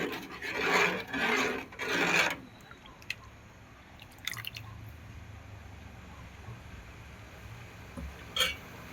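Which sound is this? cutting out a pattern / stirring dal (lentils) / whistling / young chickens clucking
stirring dal (lentils)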